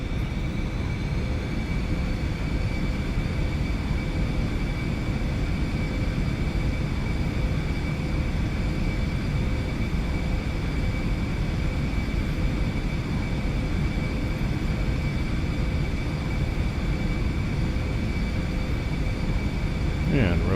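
Twin jet engines of an Eclipse 550 at takeoff power in a flight simulator, a steady, loud whine and roar holding at a constant level throughout, with tonal hum layered over broadband rumble.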